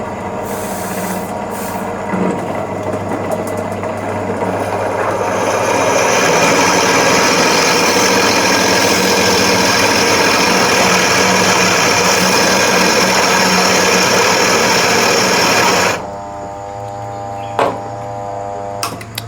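A power drill runs steadily with a loud whirring grind as it bores into material, then winds down near the end with a few clicks.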